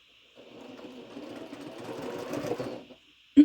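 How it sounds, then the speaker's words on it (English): A sewing machine stitches quilt pieces together in one continuous run of about two and a half seconds, close and moderately loud, its motor hum and needle chatter building slightly before stopping, followed by a single sharp knock. "Now I'm just going to sew all these on both sides"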